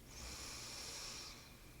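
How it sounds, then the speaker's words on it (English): A slow, deep inhalation taken while seated during a relaxation and breathing exercise, a steady soft airy hiss lasting over a second, close and quiet with no talking. "breathing in"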